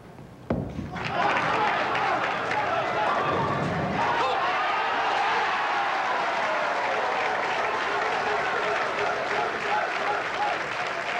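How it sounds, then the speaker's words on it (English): A crowd at a 1993 professional bowling tournament in Markham, Ontario bursts into loud, sustained applause and cheering after a sharp thud, filling the space, with a commentator's voice faintly mixed in. "Listen to this crowd in Markham, Ontario."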